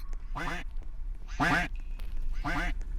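Three loud, nasal duck quacks from a Scary Teacher video game ring out at even intervals, each short and clear over a low background hum.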